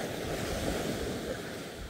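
Sea waves wash over a beach in a steady, broad rush of surf close by, mixed with wind noise on the microphone. No one speaks.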